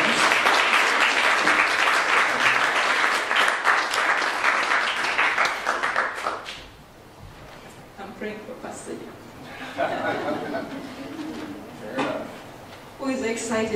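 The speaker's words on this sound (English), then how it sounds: "Let's give them a round of applause." Church congregation applauds loudly for about six seconds, then the clapping fades and quieter talk and scattered sounds follow.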